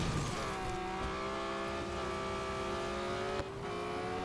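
A GT3 race car drifts in the Real Racing 3 video game, its engine holding a steady, loud, high-pitched whine with a hint of tire squeal, briefly dipping near the end.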